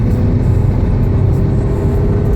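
Honda Accord engine revving on the road after a spark plug change, a loud, close, steady low engine drone with a rising throaty hum, no talk.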